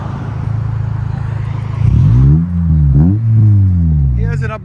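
A 2002 Acura Integra Type S with a Skunk2 cat-back exhaust sits at a steady idle, then gives two sharp throttle revs close by. Each rev rises and falls quickly, and the exhaust note drops back between them.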